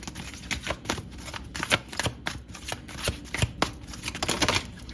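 Tarot cards being shuffled by hand: a close, steady stream of crisp riffling and flicking bursts that keeps going with no voice over it.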